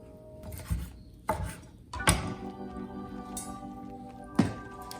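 Knife slicing red chili peppers on the bias on a cutting board, four distinct chopping thunks spaced unevenly, close and clear with a faint room hum between cuts.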